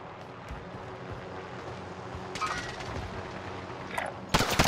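Gunfire on Rebirth Island in Call of Duty Warzone, scattered distant shots over a low battlefield rumble, building to a sharp, loud close-range burst in the final half second.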